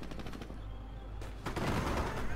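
Mortar and gunfire in the World War II strategy game Company of Heroes at Cherbourg: a steady dense rattle of shots, then a louder, heavier burst of blasts and crackling fire in the final second.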